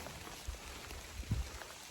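Steady rain falls on the Appalachian Trail on a cold morning, a soft, even hiss with scattered faint patters of drops nearby and no talking.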